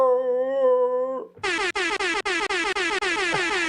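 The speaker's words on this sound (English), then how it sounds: "Air horn." A loud, close air horn blasts one long steady tone, then switches to a rapid series of short, pulsing honks of a different pitch.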